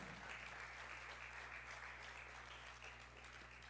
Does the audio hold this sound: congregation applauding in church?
yes